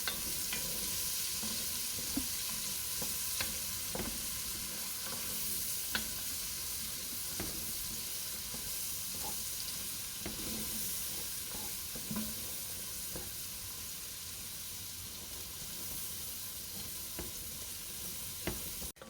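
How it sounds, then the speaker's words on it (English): A pot of potato soup with bacon bits being stirred, a continuous close sizzle and hiss with soft repeated scraping and clicking strokes of the spoon throughout. "you're just going to keep stirring it so nothing sticks to the bottom"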